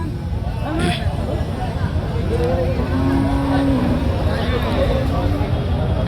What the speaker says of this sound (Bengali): এই যে একটা কালো গরু দেশি জাতের